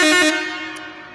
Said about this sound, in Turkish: Arap kornaya gel.